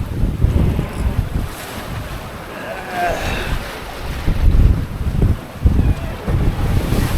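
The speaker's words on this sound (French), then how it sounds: "Il y a des grosses vagues quelquefois." Heavy ocean surf rumbles and crashes in swelling waves at sea en route to the Balearic Islands, mixed with strong wind buffeting the microphone.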